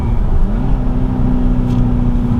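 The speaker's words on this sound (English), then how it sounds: "there's a little bit of road noise from the tires" Steady low rumble of tires rolling on pavement inside a moving 2020 Volkswagen Jetta GLI, continuous and fairly loud with a faint engine hum underneath.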